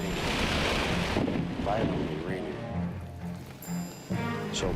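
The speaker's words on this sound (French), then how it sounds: "il s'est mis à pleuvoir très violemment" Loud rain and gusty wind roar through the recording, with deep rumbling thunder rolling underneath; tonal hums and whistles appear toward the end.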